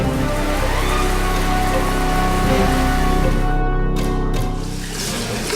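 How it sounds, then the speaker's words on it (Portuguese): A running shower sprays water in a steady, loud hiss and patter that continues without break before easing slightly near the end. "desliga esse chuveiro!"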